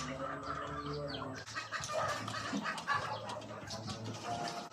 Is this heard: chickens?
yes